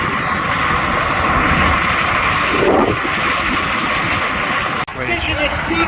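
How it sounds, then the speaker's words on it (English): A heavily turbocharged pulling tractor engine strains loudly as it drags a weighted sledge that digs in harder along the track at a tractor pulling event in Brechin, Scotland, a sustained roaring drone that swells briefly midway and cuts sharply near the end. "The sledge digs in, gets more resistant as it gets towards the track, making the engine work as much."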